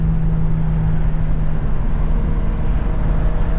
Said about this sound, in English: The car sounds sick, though.